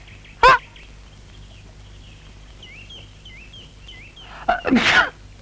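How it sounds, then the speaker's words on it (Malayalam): A sharp, loud human sneeze bursts out near the start; a second, longer sneeze follows near the end, with faint bird-like chirps in the quiet stretch between them. "എന്തൊരു തുമ്മക്ക."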